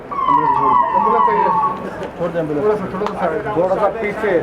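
An ambulance siren wails loudly and steadily during a Muharram 10th mourning procession, its rising and falling tone continuing under a man's amplified speech and crowd noise.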